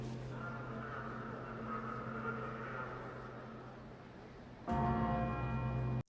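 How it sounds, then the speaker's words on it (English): A small church bell tolls in a scene from the Andor finale, sustained ringing tones that hum steadily under ambient sound before a fresh, louder strike near the end, with no talking. "the little church bell going in the background"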